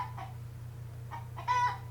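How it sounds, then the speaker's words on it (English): Minecraft chickens cluck in short bursts, a few scattered clucks with a clearer squawk near the end, moderately loud over a steady low hum. "my chickens are of course going crazy"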